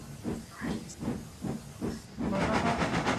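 A cartoon steam engine named Layla puffs away with a rhythmic run of hissing chuffs, then a broader continuous steam hiss rises louder and fills the sound, close and bright with no voices.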